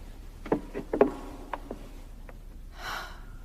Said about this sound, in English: Breathing. He's asleep.